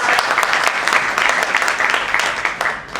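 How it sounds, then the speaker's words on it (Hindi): An audience at a sales training program applauds loudly, a thick continuous roar of clapping held for several seconds, with faint voices mixed in. "जोरदार तालियां हमारे बड़े भाई रविंद्र कुमार चंडी जी के लिए"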